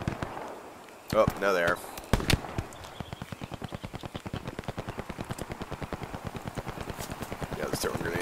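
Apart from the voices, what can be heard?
grenade explosions in Hell Let Loose video game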